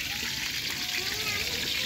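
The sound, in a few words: dal (lentils) bubbling and spluttering in cooking pot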